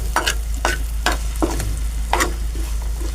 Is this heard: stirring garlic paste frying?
yes